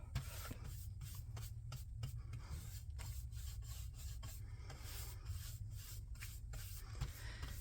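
Clear wax being rubbed onto a surface with a cloth or brush, a steady close scrubbing and rasping texture in repeated strokes, quiet and alone without talk.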